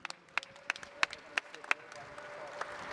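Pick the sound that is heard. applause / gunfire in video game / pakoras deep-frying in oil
applause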